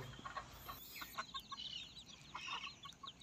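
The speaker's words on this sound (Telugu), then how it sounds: "ఇలా నీట్గా ఉండడం వల్ల కూడా కోళ్ళు స్వేచ్ఛగా తిరుగుతూనే ఉన్నాయి" Free-roaming country chickens scratching about a sandalwood plantation cluck in short, scattered bursts, fairly faint and somewhat distant, with a few sharper calls among the softer clucks and no talking.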